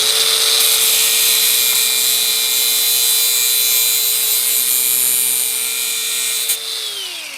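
A power tool cuts through a bare metal fuel rail from a Mini Cooper with a 1.8T engine swap, a loud, steady high-pitched whine holding for about seven seconds before winding down at the end.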